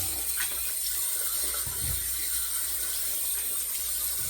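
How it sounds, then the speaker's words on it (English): A razor is rinsed under a running tap, giving a steady, close hiss of flowing water with a few brief splashes and no talking. "so we'll give it a rinse here"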